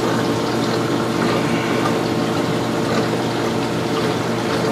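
Water drains steadily from an algae scrubber on a 400-gallon bowfront aquarium, a continuous close rushing and trickling flow with no pauses.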